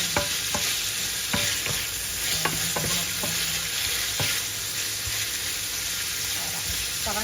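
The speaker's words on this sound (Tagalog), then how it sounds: "gisa-gisa lang natin hanggang mag-brown" Pork sautés in a pan until browned for red beans with sotanghon, a steady sizzle under repeated scraping strokes of a spatula stirring the meat, close and fairly loud.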